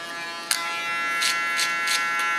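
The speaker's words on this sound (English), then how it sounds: "Using my clipper as a comb, go against the hair flow." An electric hair clipper hums with a steady, close buzz while working against the direction of the hair, with a few brief crisp bursts as it bites through strands.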